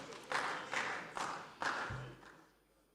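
Legislators in a parliament chamber clap in four or five slow, separate bursts, each a short rattle of hands that fades quickly, fairly faint and with no voices.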